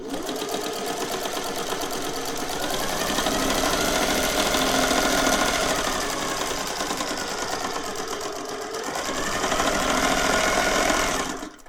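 A Singer 401A sewing machine sewing a blind stitch runs steadily and close, its rapid mechanical stitching whir continuing for several seconds before stopping abruptly.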